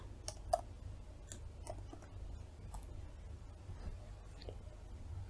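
Sparse, quiet clicks of computer keys as code is typed, irregular single taps spread over a few seconds against a faint room hum, with no talking.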